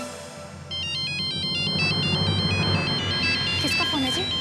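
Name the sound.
phone ringtone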